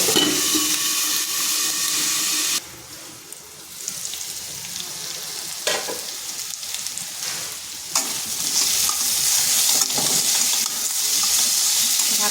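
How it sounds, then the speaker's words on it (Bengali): Salted potatoes fry in a covered pan for a vegetarian pumpkin-stem chorchori, the steady sizzle dipping and swelling as the lid shifts, with a few clinks and scrapes, close and continuous, no talk. "এরপর ঢাকা দিয়ে আলুটাকে একটু ভেজে নিই"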